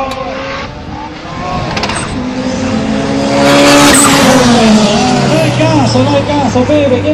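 Quarter-mile drag race cars at Las Vizcachas, Chile, roar hard through acceleration, with rising engine pitch, tire squeal and an excited announcer talking loudly over the noise.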